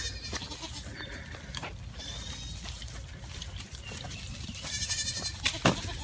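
A herd of farm goats bleats repeatedly at close range, several overlapping cries rising over rustling and low background noise.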